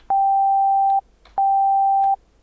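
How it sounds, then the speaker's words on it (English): A synthesizer sounds two pure sine tones set to the second harmonic, played as two clean, steady beeps of under a second each with a short gap between them, loud and isolated. "set this to the second harmonic, which will just turn this into 2 sine oscillations"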